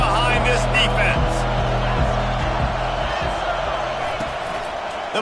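Stadium crowd roaring through a big third down at an American football game, a loud continuous wash of cheering that fills the whole stretch with thuds and bursts underneath, while commentary talk runs over it.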